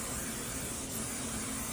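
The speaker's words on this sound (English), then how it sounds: "I'm gonna just spray it with some nonstick spray" Nonstick cooking spray hisses steadily from an aerosol can into an 8x8 baking dish, one continuous close, even burst of spray with no talking.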